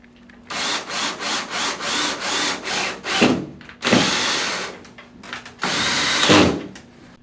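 Power driver sinking screws into wood mounted above a drop ceiling, a run of repeated short whirring bursts followed by two longer loud drives, close and with no talk.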